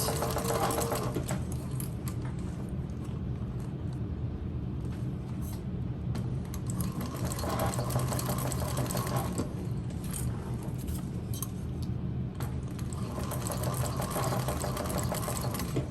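A TechSew 4800 Pro sewing machine runs in steady bursts, its rapid mechanical needle clatter near and loud, pausing briefly between runs of stitching over layered material.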